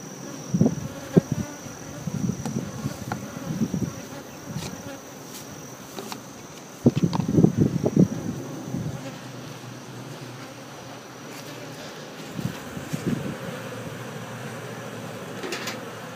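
Honeybees buzz around open hives during an inspection, a steady insect drone with brief louder passes as bees fly near, alongside faint handling noises.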